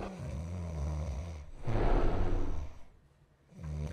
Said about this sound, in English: I would hate to be in the house with them snoring